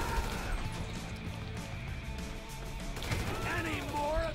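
Gunfire in the video game GTA 5, a continuous barrage of shots and impacts running steadily throughout at fairly loud level, with some crashing noise and faint game sounds layered in.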